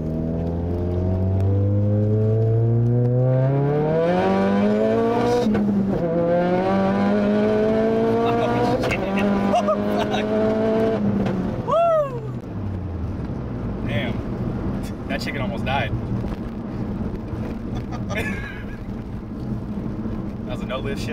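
A 500whp Ford Focus RS builds to 35 PSI of full boost on a street, its engine climbing loudly in rising harmonic sweeps, dropping at a shift, then pulling again with turbo whistle and whoosh; people talk excitedly over it.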